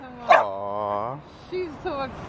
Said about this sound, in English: The barking and stuff.